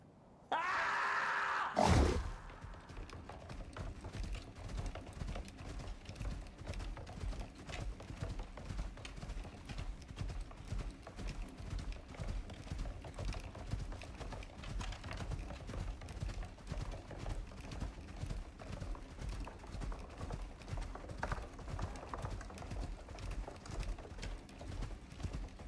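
Steady, rhythmic clip-clop of horse hooves trotting continuously in a video game, fairly faint, after a brief burst of noise at the start.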